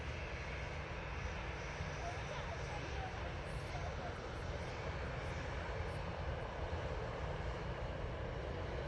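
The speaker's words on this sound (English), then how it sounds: "Virgin is on the taxi." A Virgin airliner taxis at Manchester Airport, its engines giving a steady, unbroken roar from moderate distance, even in level throughout with no talk.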